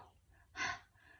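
A single soft, breathy exhale made by a voice to imitate the sound of the letter H, brief and quiet, rising out of a faint background.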